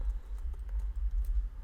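Keys clatter on a computer keyboard in rapid, uneven bursts of soft clicks over a low background hum, with no voices present.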